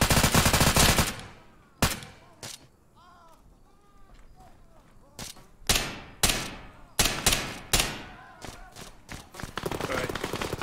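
Gunfire in the military shooter Arma 3, with sharp single shots and short bursts cracking out at irregular intervals around a dense opening volley, separated by quieter stretches with faint background sounds.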